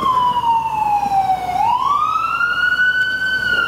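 A loud, close siren wails, its pitch sweeping down then rising again in one continuous tone over a steady street rumble.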